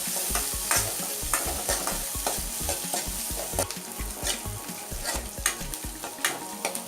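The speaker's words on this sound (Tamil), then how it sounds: "கூடவே கொஞ்சம் பூண்டு, கொஞ்சமாக கருவேப்பிலை, இது எல்லாத்தையும் சேர்த்து நல்லா வதக்கிக்கோங்க" Shallots, garlic and curry leaves sauté in hot oil for sambar, a steady close sizzle broken by repeated scraping stirs of a spoon against the pan, with no voices.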